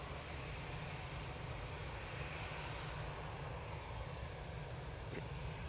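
A Titan Airways A320 jet at Manchester Airport produces a steady, fairly distant engine roar, a constant low rumble with broad hiss above, unbroken and with no voices.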